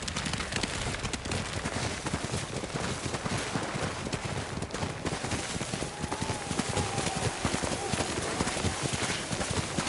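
Horses clip-clopping at a steady trot through snowy weather, hoof beats dense and continuous at moderate distance under a broad wash of wind and ambient noise, with a faint whinny-like tone partway through.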